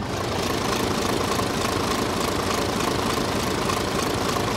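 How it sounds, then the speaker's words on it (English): Rolls-Royce diesel engine running aboard a diesel-hydraulic DMU railcar at Llangollen, a steady, loud, close low rumble with a knocking beat that holds evenly throughout, no talk over it. "Hearing a Rolls-Royce engine on a DMU, quite a rare occurrence"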